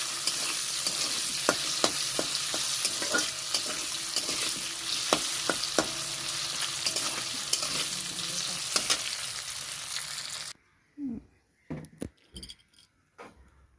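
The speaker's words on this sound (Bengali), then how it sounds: "আলু ভাজা হয়ে গেছে" Potatoes frying in hot oil in a pan, a loud continuous sizzle punctuated by sharp metallic clicks of stirring, ending abruptly in a few scattered clinks.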